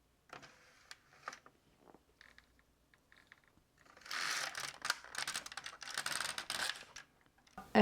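An LK150 knitting machine carriage is pushed across a row of thread, a clattering mechanical swish lasting a few seconds, preceded by quieter scattered clicks and handling.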